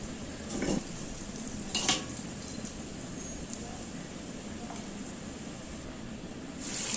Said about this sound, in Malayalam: ചിക്കൻ പൊരിച്ചെടുക്കുന്നത്.